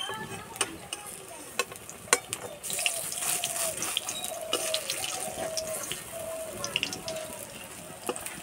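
Pointed gourd fritters fry in hot oil with a steady close sizzle, broken by sharp clicks and scrapes as the pieces are turned over in the pan.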